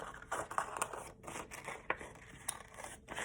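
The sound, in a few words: scissors cutting paper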